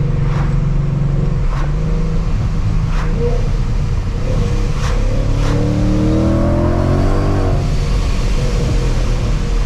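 Loud engine of a 700 wheel-horsepower turbocharged Mustang droning and revving inside the car, with a rising whine and a few quick chirps from the blow-off valve.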